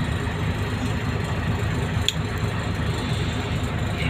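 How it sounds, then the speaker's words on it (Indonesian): Steady low engine rumble inside the rear cabin of an intercity bus, with the motor mounted right underneath, a constant droning hum with no breaks and no talking. "di bawah ini mesin mobilnya tuh di bawah ini, jadi kedengaran berisik"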